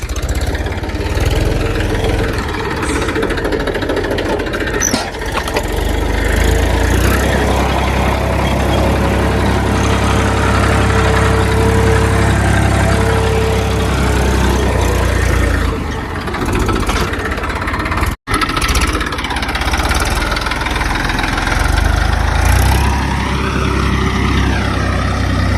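A tractor engine runs steadily on a farm with field sheds, giving a loud, continuous low rumble that holds for the whole stretch, with one sharp click partway through.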